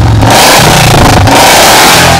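A loud, close second-hand Royal Enfield Bullet with a BS4 carburettor engine revs hard, with thumping low-end pulses and a rising, falling throttle, alone and without voices.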